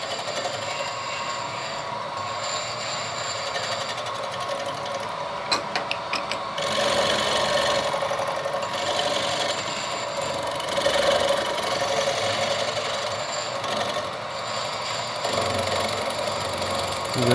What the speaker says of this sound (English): We've got a manual CNC work going on here, 2 handles at once.